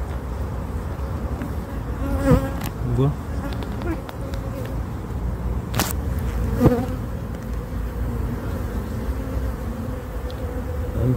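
Honeybees crawling over a brood frame where young bees are emerging, during a spring visit to a breeding apiary, make a steady buzzing hum with occasional louder passes while someone talks over it.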